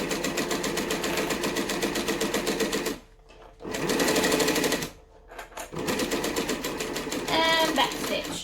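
Cylinder arm sewing machine stitching a Linette business bag by Swoon, running in steady loud bursts with short pauses between runs, plus a brief faster backstitch near the end.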